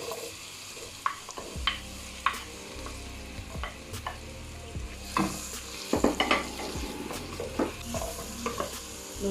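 Salt stirred into hot oil in a pan for Arabian kabsa rice, with a steady sizzle of frying and repeated scraping strokes of a spoon against the pan, close and clear, with no voices.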